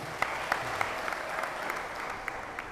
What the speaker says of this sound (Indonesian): beri tepuk tangan yang meriah dulu untuk kita semua